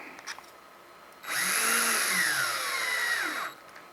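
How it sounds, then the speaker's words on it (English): A power drill whirs steadily for about two seconds, its motor pitch rising and dipping slightly as it drives a screw into a 1:10 scale RC car chassis, then cuts off. "Using the drill is so handy."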